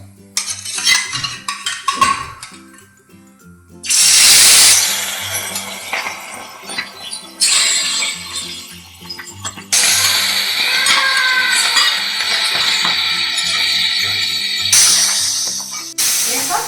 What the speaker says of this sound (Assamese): এই মাছখিনি মই এতিয়া ফ্ৰাই কৰি ল'ম